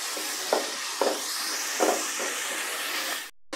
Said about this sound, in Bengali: মশলা সহ আলুগুলো হালকা ভাজা হয়ে গেছে